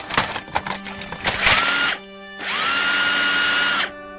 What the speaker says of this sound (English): Power drill. It's the only way.